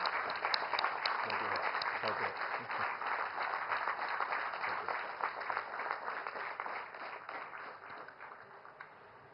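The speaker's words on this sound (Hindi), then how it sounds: "तालियों की करतल ध्वनि के साथ हम आपका स्वागत करते हैं." A large audience gives sustained, steady applause welcoming India's Prime Minister at the inauguration of Nalanda University's new campus in Bihar, with dense clapping throughout at a moderate distance that slowly tapers.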